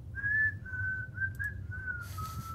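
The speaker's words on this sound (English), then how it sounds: "Ian, just hear the whistling" Someone whistles a short, wavering tune in a tabletop role-playing session. The notes are soft and clear, and there is faint background noise behind them.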